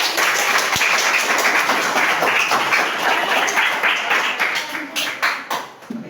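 Applause from a class of students during a school teaching practice session, a busy patter of many hands that thins into scattered individual claps near the end.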